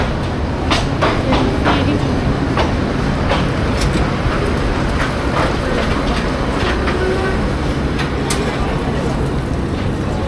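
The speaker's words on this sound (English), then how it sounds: "So guys, train has arrived." Loud rail rumble with clattering wheel clicks and metallic screeches as a train pulls into a station in Bangladesh, heard up close amid background noise.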